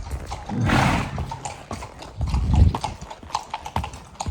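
Horse hooves clip-clop on a road through a small Mexican town in El Arenal, with a steady, close walking rhythm and sharp individual strikes.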